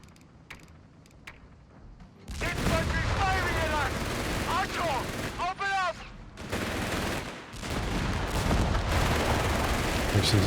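Sustained machine-gun bursts aimed at a squad of riflemen at close range in Company of Heroes 3, loud rapid rattling fire that starts abruptly after a quiet lead-in and continues with whistling ricochets and battle noise.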